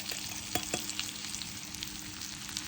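Stuffed shimla mirch capsicum coated in leftover masala frying in a pan, giving a steady close sizzle with a few sharp crackles and stirring clicks throughout, no voices.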